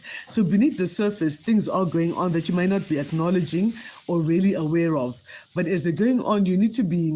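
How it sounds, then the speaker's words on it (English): A steady background hiss like sizzling runs faintly beneath continuous close talking throughout. "Suppose things are sizzling in the background."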